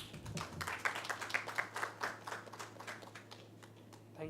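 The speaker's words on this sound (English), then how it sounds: "Please welcome with a huge round of applause" A conference audience at Cypher 2017 claps to welcome a data science speaker onto the stage, a crisp, lively round of many hands that holds steady and then gradually thins toward the end.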